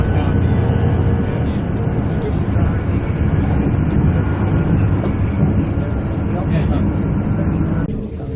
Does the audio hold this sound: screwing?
no